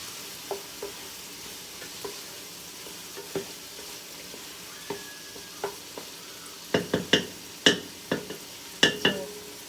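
Tomatoes sautéing in a hot pan while cooking monggo, with a low steady sizzle punctuated by sharp utensil clicks and scrapes that grow louder and more frequent toward the end.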